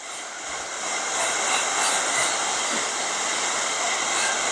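Hair dryer blowing hot air onto a Lincoln Mark VIII's rear window trim, a steady loud broadband whoosh that holds unbroken for the whole stretch with no voices.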